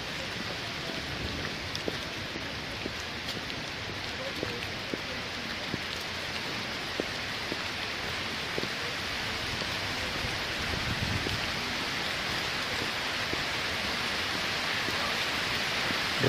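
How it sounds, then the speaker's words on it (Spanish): Heavy torrential afternoon downpour over the city of Cali, a dense, steady hiss of rain on surfaces, continuous and moderately loud with no voices. "debido pues a este torrencial aguacero que cae esta tarde"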